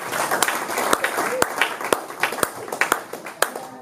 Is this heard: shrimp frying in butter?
no